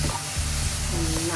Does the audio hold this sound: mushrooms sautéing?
yes